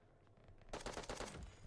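Rapid bursts of shotgun fire in the mobile shooter Bullet Echo during a close-quarters rush, a dense loud volley of overlapping blasts lasting about a second after a quieter lead-in.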